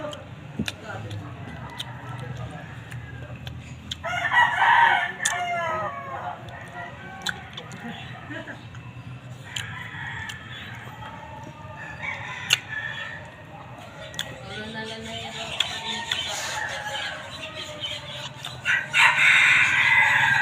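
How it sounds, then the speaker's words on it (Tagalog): Noisy birds crowing and clucking at moderate distance while eating papaya fruit, with bursts of calls through the clip over a low background hum. "Maingay yung mga ibon."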